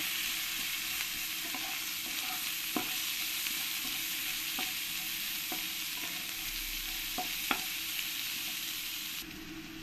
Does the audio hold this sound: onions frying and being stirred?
yes